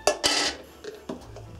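Shelled walnuts tipped into a bowl for kutia, a few sharp clattering knocks and rattles against the bowl, close and brief, with quieter taps afterward.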